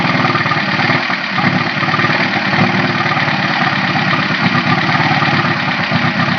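A Ferrari Mondial 3.2 V8 that is missing some cylinders runs at a loud, steady idle close by, its rough, throbbing drone continuous and unbroken.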